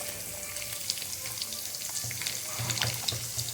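Chopped garlic and dried chillies fry in hot oil alongside cumin seeds, giving a steady close sizzle with crackling pops scattered throughout and no talking.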